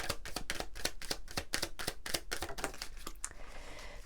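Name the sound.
oracle cards being shuffled and drawn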